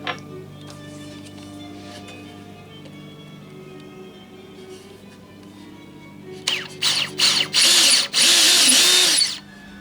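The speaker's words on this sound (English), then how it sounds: "So let me drill this out and put one on either end." A power drill bores holes for clevises on a model railroad open wagon, with several short whirring bursts and then a longer, louder sustained run near the end, after quieter workshop sounds.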